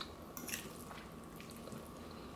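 Cooked kamut fusilli pasta stirred with green vegan pesto and cherry tomatoes, giving soft wet squelches and sticky drips, close and quiet, with no voices.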